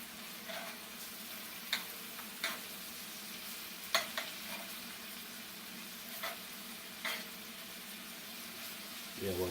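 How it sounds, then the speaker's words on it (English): Scallops and pre-cooked lobster tail finishing in a butter, lemon and wine sauce, a quiet steady sizzle with a few sharp clinks and taps of a utensil against the pan scattered through it. "just finishing them off in the sauce, in the butter lemon wine sauce, along with pre-cooked lobster tail"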